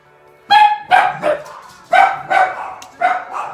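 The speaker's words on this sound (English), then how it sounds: "if my dogs go crazy in the background" Dogs barking loudly and close in a home, sharp repeated barks in irregular bursts of two or three with short gaps between them.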